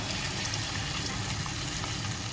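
Marinated chicken pieces frying in hot oil in a kadai for chicken 65, giving a steady, dense sizzle that runs unbroken and fairly close throughout, with no talking.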